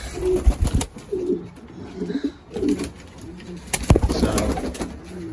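Pigeons coo repeatedly at close range in a loft, soft throaty calls overlapping one another with some rustling and a few sharp clicks.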